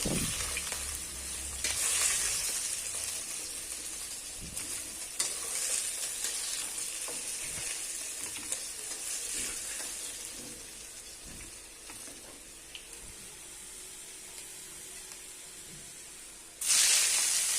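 Fish fries in a pan of oil with a continuous bright sizzle and hiss, interrupted by occasional scraping stirs, ending in a sudden louder flare of spitting oil.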